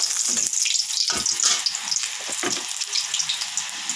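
Bata fish frying in hot oil, a continuous crackling sizzle with scattered spits and pops, close and fairly loud, with no talking.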